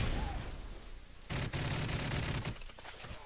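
Gunfire in a video game Capture the Flag match on the Bootleg map: sustained rapid automatic shots, loud and close, with a dense burst in the middle before thinning out.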